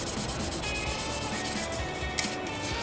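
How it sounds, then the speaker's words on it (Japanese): Continuous abrasive rubbing as superglue spots are sanded down on a Fujimi Enzo Ferrari plastic model body, a steady close scratchy texture throughout with one brief sharper scrape. "瞬着のところは逆に瞬着のところが盛り上がってるので、瞬着のところを削ってあげる"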